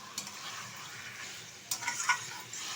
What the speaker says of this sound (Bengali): দিয়ে দিচ্ছি ভেজে রাখা আলু। আলুটা দেওয়ার পরেও কিন্তু কষিয়ে নেব একই সাথে।